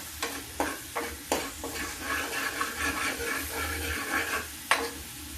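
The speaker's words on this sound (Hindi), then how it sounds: "अभी मसाला पक जाता है मेरा।" Masala spices with amchur frying in a pan for toor dal, a steady sizzle broken by several sharp scraping stirs of a spoon, close and moderately loud, with no talking.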